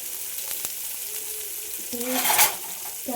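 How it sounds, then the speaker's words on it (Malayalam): Sliced onions sizzle and fry in hot oil in a pot for cooker chicken, a steady close crackle with a stirring scrape that briefly swells the sizzle. "സവോള അങ്ങോട്ട് ഇട്ട് കൊടുക്കുവാണ്."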